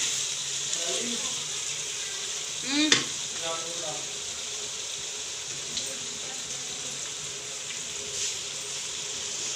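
Finely chopped onions sizzle and hiss steadily in a hot pan while being stirred, with a few louder scraping clatters of the spoon near the start.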